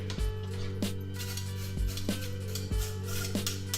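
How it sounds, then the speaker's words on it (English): A spoon scrapes and knocks around a pot of quinoa being stirred, with a few clear metallic clinks spaced roughly a second apart over a steady low hum, close and moderately loud, no talking. "Got my quinoa in there, and I'll just stir it up real quick"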